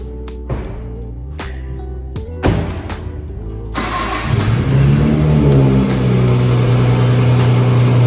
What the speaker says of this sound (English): do a little burnout, celebration burnout that Ghassan Automotive does for all their builds once they're done